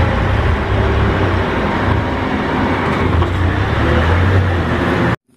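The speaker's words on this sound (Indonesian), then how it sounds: "Wahai, ada mobil box." Steady rumble of a road vehicle passing close by, constant engine and tire noise throughout, cutting off abruptly at the end.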